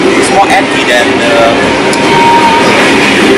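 An Argo Jati Tambahan executive class train departs in Indonesia, with a steady loud rumble of rolling carriages and faint squeals and rattles throughout.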